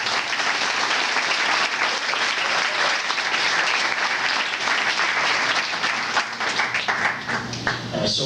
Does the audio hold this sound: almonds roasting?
no